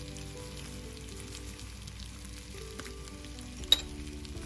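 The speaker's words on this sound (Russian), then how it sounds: "Полностью его растопим и добавим сюда красный сладкий перец." Sweet red paprika stirred into melted butter in a pan, giving a soft, quiet sizzle of frying with a few faint clicks and one sharp tap near the end.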